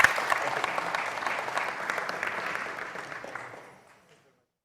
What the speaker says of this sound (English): I'll propose a round of applause to our panelists here